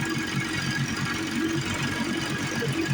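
A rebuilt 15-18 HP outboard motor idling, a steady low rhythmic chugging with a faint mechanical rattle, heard close and continuous with no talk over it.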